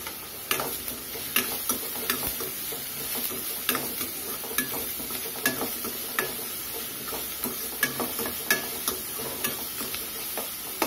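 Vegetables sizzle and fry in a pan for a Maggi noodle recipe, with a steady crackle and repeated sharp scrapes of a spoon stirring every second or so, close and moderately loud with no talk.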